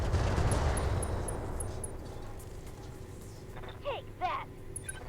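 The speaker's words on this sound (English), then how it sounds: "we just send 30 missiles" A mech fires a volley of 30 missiles in the video game BattleTech, starting as a loud rumbling roar and then fading out, followed by a couple of brief whooshing sweeps.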